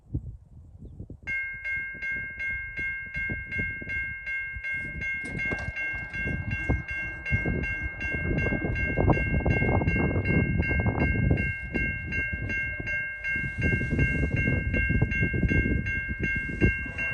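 The Via 1 passenger train of fifteen cars rumbles past close by at a level crossing. A sustained crossing bell rings throughout, and heavy wheel clatter and rolling noise build as the cars go by, with no voices.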